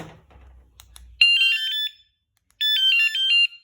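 A linked, remote-controlled electronic alarm sounds in two loud bursts of rapid, warbling high beeps, separated by a brief silence, after a few faint clicks and handling noises.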